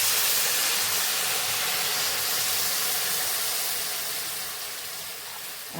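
Water poured into a hot pan of pumpkin and potato, setting off a loud, steady steaming hiss that fades slightly over several seconds.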